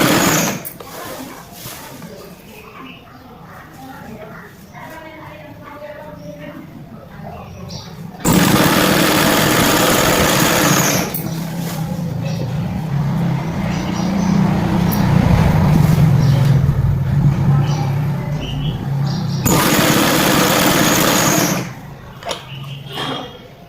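Sewing machine stitching a child's lehenga, running in two long loud bursts of steady whirring motor and needle clatter, with quieter handling and fabric noises between them.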